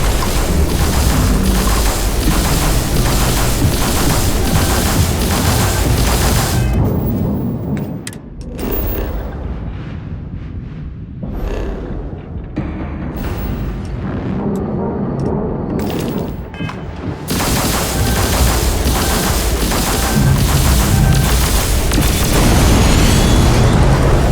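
Spaceship retro thrusters fire in the game Starfield, a loud, continuous roaring rumble with booming bursts that briefly dips and thins midway before surging back to full force.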